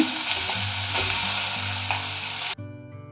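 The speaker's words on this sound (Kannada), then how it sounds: "ಈಗ ಇದಕ್ಕೆ ಅವಲಕ್ಕಿನ ನೆನೆಸಿಟ್ಕೊಂಡಿದ್ವಲ್ಲ ಇದನ್ನು ಹಾಕ್ತಾ ಇದ್ದೀನಿ." Soaked flattened rice tipped into a hot sizzling tempering for gojju avalakki, a loud, continuous close frying hiss with light stirring scrapes that cuts off suddenly near the end.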